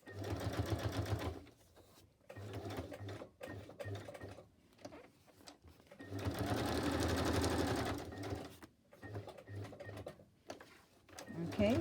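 Sewing machine stitching around a paper envelope in short bursts of rapid whirring, stopping and starting, close up, with a person talking quietly during the pauses.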